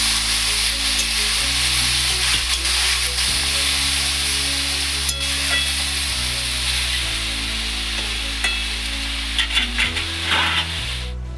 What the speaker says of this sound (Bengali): এর মধ্যে এবার জল একটু দিয়ে দিচ্ছি অল্প করে।